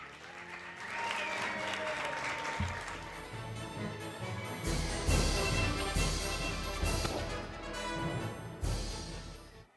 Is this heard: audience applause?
yes